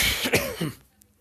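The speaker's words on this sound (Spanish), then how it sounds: "Ay, dije tos y ya me dio." A person who is sick with a cough lets out a short fit of two or three harsh, close coughs, fading into quiet at the end.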